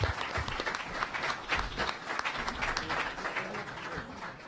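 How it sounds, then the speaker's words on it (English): A conference audience applauding a panel discussion at a crypto and crowdfunding event, with steady, moderately distant clapping from a sizeable crowd that continues throughout. "give our panel a round of applause"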